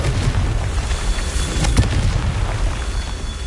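A Confringo fire spell exploding in Hogwarts Legacy, heard as a loud, sustained booming blast with rumbling, crackling texture throughout.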